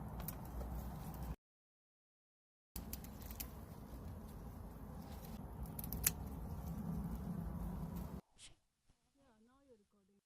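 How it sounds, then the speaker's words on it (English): Snipping cilantro stems from a potted herb on a balcony garden, small crisp scissor cuts over steady outdoor background noise, with a short silence partway and a voice briefly at the end. "I have some cilantro as well, so I'm gonna cut some from the side."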